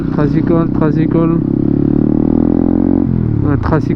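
A motorized tricycle in the Philippines drones past with a steady, close engine rumble that holds then drops in pitch, while a voice talks over the start and end.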